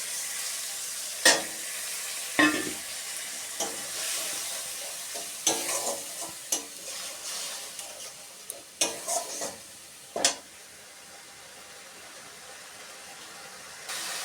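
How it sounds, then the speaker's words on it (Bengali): Spice paste for a vegetarian dal being stirred and roasted over a high gas flame, with a steady sizzle broken by sharp scraping strokes of a spoon against the pan, close and fairly quiet. "এবার গ্যাসের ফ্লেমটাকে বাড়িয়ে মশলাটাকে কষিয়ে নেবো"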